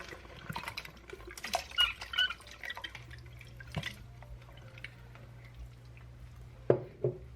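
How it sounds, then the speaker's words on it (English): Canned whole tomatoes pour into a pot in wet plops and drips, with a few sharper splashes and a brief low hum partway through; close and fairly quiet, with no talking. "Right now I'm going to add in my can of whole tomatoes."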